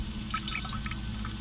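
Water being poured into a coffee can outdoors for a lawn chinch bug test, a brief, soft splashing trickle with light drips, heard alone.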